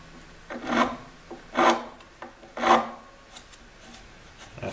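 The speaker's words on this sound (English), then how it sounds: "we're just going to take our file and we're just going to kind of angle it just a couple of swipes to remove that burr" Metal file rasping across electric guitar frets to take off a burr during fret leveling, three distinct short swipes spaced about a second apart, close and fairly quiet, with faint softer scrapes between.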